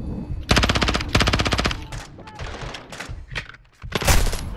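Automatic gunfire bursts loud and close in Call of Duty Modern Warfare II, two long rapid strings followed by scattered shots and a final burst, with a voice briefly heard among them.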